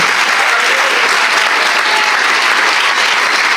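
A church congregation applauds during a Spanish-language sermon, the clapping loud, dense and steady from start to finish with no voices over it.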